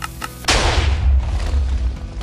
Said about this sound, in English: press the button at the back to launch the TNT and see the cannon work its magic